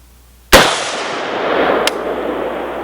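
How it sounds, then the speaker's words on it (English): A single sharp gunshot from a Century Arms AK M70 AB2 rifle at a shooting range, loud and close, followed by a long decaying echo and a faint second crack near the end. "Weapon's hot. Shooting at the right target."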